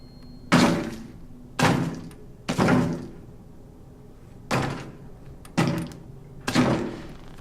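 Six heavy door knocks or thumps sound in the horror video game Outlast, loud and spaced unevenly about a second apart, each with a short boomy decay and no voices.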